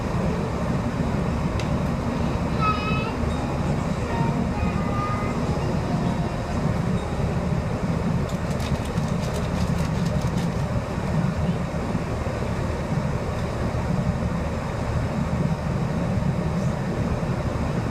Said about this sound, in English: This train will be coming to a halt outside of Sleaford